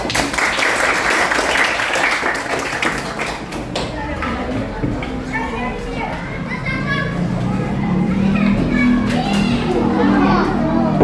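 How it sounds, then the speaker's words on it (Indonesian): Children in a classroom clap together for a few seconds, a busy burst of many small hands, then the clapping gives way to lively children's chatter and movement noise that fills the rest. "berikan tepuk tangan anak-anak"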